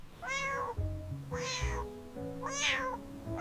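A cat meows three times in a slow, evenly spaced series, each call rising and falling, close and fairly soft against a quiet room.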